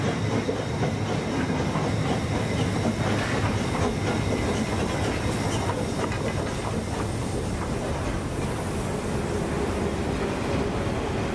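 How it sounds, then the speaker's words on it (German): Harz narrow-gauge steam railway train running through forest, a steady rumbling roll with rhythmic clickety-clack of wheels and some hiss, continuous and fairly close. "Über 60 Kilometer führt die Harz-Querbahn von Wernigerode nach Nordhausen"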